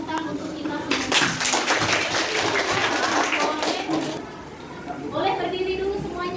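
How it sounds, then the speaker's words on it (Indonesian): A group of people clap their hands together at the close of a teachers' classroom session, a dense patter of claps rising and holding for a few seconds before thinning out, with a voice speaking briefly near the end. "kalau tidak ada, tepuk tangan untuk kita semua"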